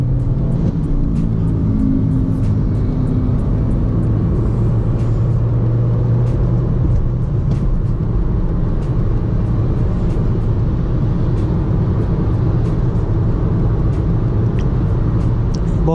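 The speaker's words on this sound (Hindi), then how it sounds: "तो यहाँ पर मैं खींचने की कोशिश करता हूँ इस गाड़ी को" A Honda WR-V petrol car engine roars steadily under hard acceleration, a constant low rumble from inside the cabin with faint ticking clicks over it.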